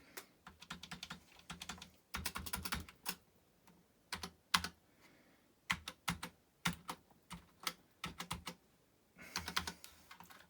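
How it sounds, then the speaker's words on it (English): Keys clatter on a 1984 Commodore Plus/4 home computer keyboard in bursts of rapid, close presses, with short pauses between flurries and no talking. "I'm having trouble with the keyboard,"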